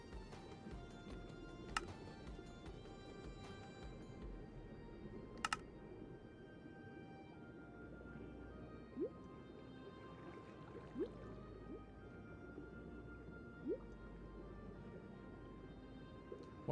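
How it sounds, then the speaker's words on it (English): Ambient water noise in the Minecraft video game: a soft, continuous watery wash with occasional drips and small plops, plus sparse clicks and taps over the low hiss. "but the water is still really loud"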